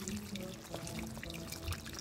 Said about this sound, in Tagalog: Lagyan natin sa lang tubig at pakuluan ng konti.